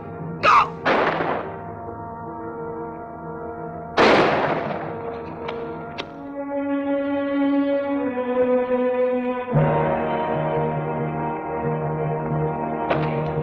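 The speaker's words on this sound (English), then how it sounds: "Firing stopped." Gunfire in a 1950s television Western shootout: a few loud, separate shots in the first seconds, then a sustained orchestral score takes over.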